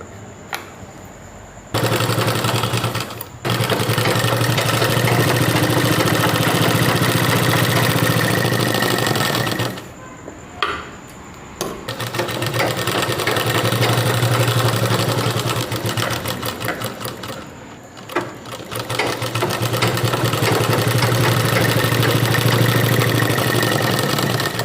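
A sewing machine stitching a baby dress and pyjama pants for a two-year-old runs in loud, fast, continuous bursts, stopping briefly a few times before whirring on again; no one speaks.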